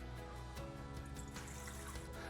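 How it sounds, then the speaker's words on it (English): Water trickles steadily into a bread dough mixer in a kitchen, a continuous close pouring stream that runs for a couple of seconds with no voices over it. "First thing into our mixer is always our water."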